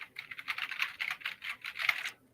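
Rapid clattering keystrokes on a very old, loud computer keyboard, a dense run of clicks for about two seconds with no talk over it.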